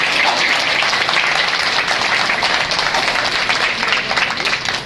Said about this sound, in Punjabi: ਇੱਕ ਵਾਰੀ ਜ਼ੋਰਦਾਰ ਤਾੜੀਆਂ ਮੰਦਰ ਕਮੇਟੀ ਵਾਸਤੇ ਜ਼ਰੂਰ ਮਾਰੀਏ